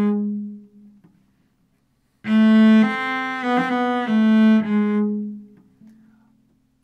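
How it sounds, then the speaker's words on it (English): A cello plays a short phrase with a mordent placed right on the beat, a clear, close bowed melody of several sustained notes with quick ornamental turns, preceded by a faint trailing tone and quiet. "Very often it is suggested to play the mordent right on the beat."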